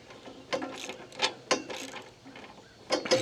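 A worn, sloppy wrench ratchets while a garden tiller is being assembled. Several short, close bursts of rapid metallic clicking are separated by brief pauses.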